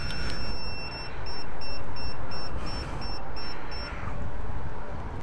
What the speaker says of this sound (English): Hopefully I can sync the audios and you can hear the beeping